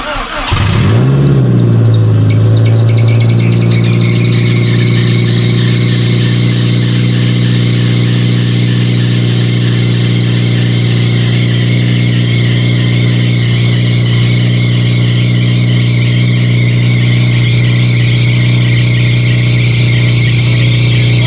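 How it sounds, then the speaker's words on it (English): A car engine is cranked briefly, then catches and settles into a loud, steady idle with a persistent whine, close up and uninterrupted by voices. "he tries to start his car, and it probably doesn't start"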